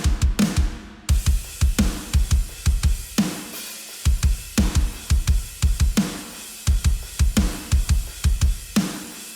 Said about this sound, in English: Then let's move on to the actual natural drums, which sound like this.